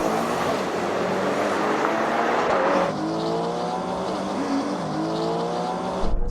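A Ferrari Purosangue, a BMW X5 M and a Chinese SUV launch in a drag race, engines roaring loudly up through rising gear pulls with short shift breaks, the roar cutting off abruptly at the end.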